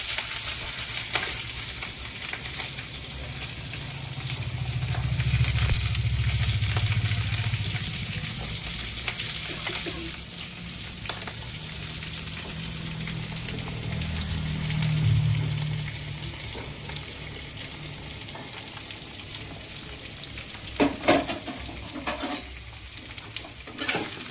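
Onions dropped into hot oil with whole cloves, cardamom, cinnamon, black pepper and dried red chillies fry with a steady, loud sizzle throughout, swelling in the middle and broken by a few sharp clinks and stirring scrapes near the end.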